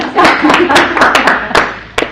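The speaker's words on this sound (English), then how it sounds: "Give me a round of applause." A small group at a Speechcraft public-speaking session claps, with a handful of distinct, loud close-up hand claps in an uneven rhythm over about two seconds and a little voice beneath.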